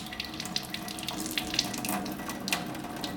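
Water runs from a Kangen water machine after making strong acidic and alkaline water, a steady close splashing stream into a sink with faint droplet spatters, continuous and without talk.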